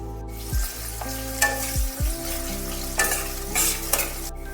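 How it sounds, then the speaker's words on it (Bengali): Onions fry in oil left over from frying potatoes in a wok, a close sizzle punctuated by several clanking stirs and scrapes of a spatula against the metal. "কড়াইতে তেল আমার আলু ভাজার পর যেটা আছে তার মধ্যে আমি পেঁয়াজ দিয়ে দিচ্ছি।"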